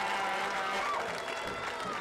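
Stadium crowd at a women's professional soccer match, Western New York Flash against Chicago Red Stars, gives a warm round of applause, a broad distant wash of clapping and murmur under an announcer talking.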